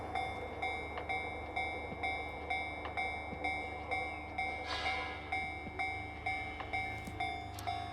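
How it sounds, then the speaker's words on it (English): A train rolls past in northern Tokyo, its wheels clacking over rail joints in a steady, evenly spaced rhythm over a constant low rumble and faint tonal whine, moderately close, with no voices. "There is a 6th train coming."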